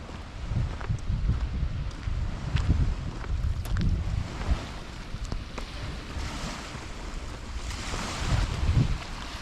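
Waves washing onto a quiet sandy beach at Vlorë, Albania, a steady low surf rumble with gusts of wind buffeting the microphone, moderately loud with no talking.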